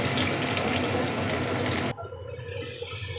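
Chopped onion frying in a pan for egg tarka hisses as a loud, broad sizzle that cuts off suddenly partway through, leaving quieter crackles and faint kitchen noise.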